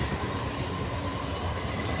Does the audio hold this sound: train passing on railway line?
yes